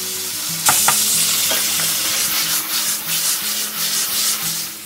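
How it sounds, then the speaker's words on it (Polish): Onion and bacon fry loudly in a pan, giving a strong steady sizzle with scraping stirring strokes and a few sharp clicks early on. "Przesmażam chwilę cebulę z boczkiem"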